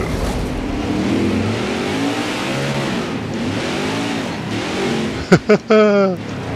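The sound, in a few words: race truck engine driving, NASCAR Heat 5 video game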